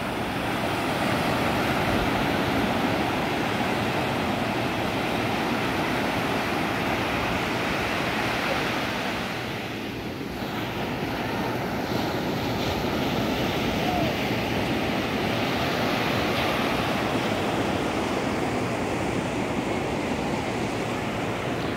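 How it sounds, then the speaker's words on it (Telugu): Waves wash in at Gokarna beach: a constant, dense roar of surf that holds steady the whole time, with only a brief dip partway through and no talk. "ఇదైతే గోకర్ణ బీచ్ అండి,"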